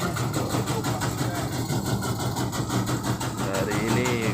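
A motorized tobacco-leaf shredding machine runs steadily nearby, a continuous loud engine drone with rattling mechanical texture throughout.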